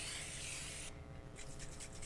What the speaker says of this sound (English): Spray it real well. Make sure you get the edges.